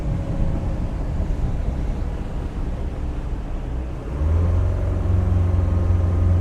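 A 2013 Tahoe Q4 boat with a Mercruiser 3.0 engine roars at full throttle, a loud, steady rumble with wind buffeting that deepens and grows heavier partway through.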